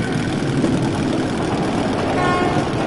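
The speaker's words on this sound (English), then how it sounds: "That's the train." A train engine rumbles steadily in an underground metro tunnel in the game Metro Last Light Redux, a continuous droning mechanical roar holding at a constant, fairly loud level throughout.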